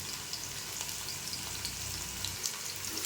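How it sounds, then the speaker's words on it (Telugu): Onions and green chillies sizzle softly in oil for a fish curry, a constant hissing crackle with a few light stirring taps, fairly quiet and close. "బాగా కలుపుతుంది ఆనియన్స్ మంచిగా గోల్డెన్ కలర్లో వచ్చినాయి"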